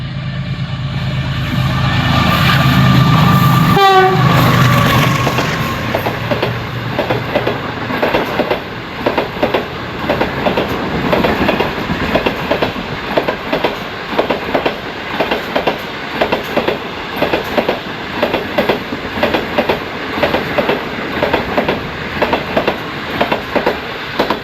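The 5 Up Green Line passenger train passing through Liaquatpur railway station in Pakistan, a loud rumble that gives way to a long steady run of rhythmic clickety-clack wheel beats on the rails.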